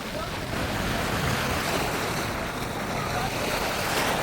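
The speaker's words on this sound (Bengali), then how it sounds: "তবে সাগরের পানি ঠিকই উত্তাল।" Rough Arabian Sea waves break continuously on a windy beach at dusk, a broad steady roar of surf mixed with gusting wind buffeting the microphone, moderately loud with no clear pauses.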